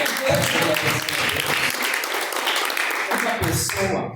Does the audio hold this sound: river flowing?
no